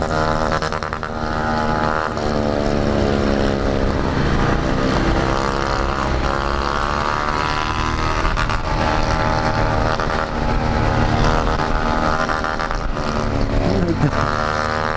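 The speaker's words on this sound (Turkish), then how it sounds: "Tapa gaz gidiyor şu an tapa gaz." A small 50 cc motor engine screams at full throttle, close and loud, with a continuous droning buzz that shifts slightly in pitch throughout.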